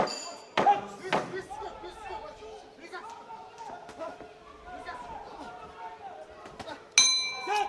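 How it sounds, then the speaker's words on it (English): A boxing ring bell at the IBA 2025 Men's World Boxing Championships in Dubai clangs loudly near the end to close a bout, after earlier metallic knocks, under arena murmur and a commentator talking. "There goes the bell."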